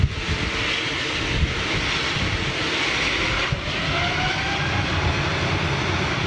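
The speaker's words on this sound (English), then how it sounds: "Getting a lot of blast from it. XWB engines, man." A jet airliner powered by Rolls-Royce Trent XWB engines departs with a strong blast, a loud, close, sustained roar with a brief whine rising through it.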